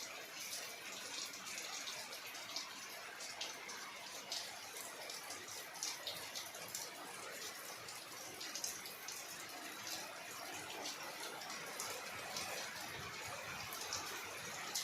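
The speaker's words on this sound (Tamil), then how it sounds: "மழை தண்ணி போயிட்டுருக்கு." Rainwater running and splashing steadily in a village garden setting, a faint, continuous watery hiss with scattered drips, quiet and unbroken, with no one speaking.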